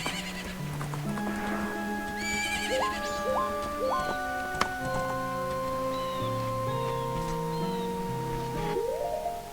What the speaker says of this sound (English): I like using the horse here because I can jump this fence.